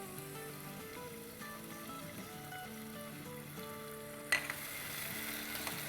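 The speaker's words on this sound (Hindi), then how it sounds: "बस 30 सेकंड ही सौटे करेंगे।" Garlic and ginger paste sautés in a pan with a faint, steady sizzle and one brief clatter near the end, all under soft background music.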